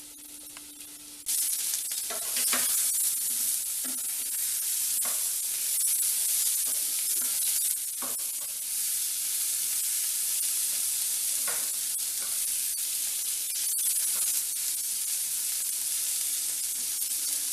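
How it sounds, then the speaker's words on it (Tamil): Baby potatoes roast in a pan with a loud, steady sizzle that starts abruptly and holds, while occasional stirring scrapes and taps break through. "நல்லா வந்து சிம்லே வச்சு நல்லா ரோஸ்ட் ஆக விடுங்க கொஞ்சம் நேரம்."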